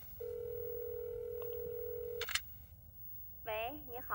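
A telephone gives a steady dial tone for about two seconds, then short dialing beeps sound, and a voice begins speaking.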